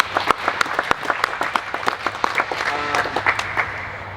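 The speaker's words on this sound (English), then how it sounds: "Big round of applause for Jason" Applause from a small audience at an indoor nationals clinic, with sharp individual claps standing out near the listener over a thinner patter of clapping that continues throughout.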